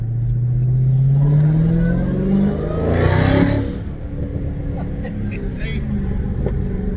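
A car engine revs and roars past close by, rising to a loud peak midway before settling back into a lower engine rumble.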